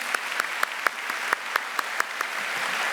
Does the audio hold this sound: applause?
yes